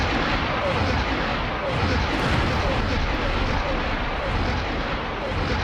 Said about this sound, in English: Finally getting the big guns on the Neutron Star Cruiser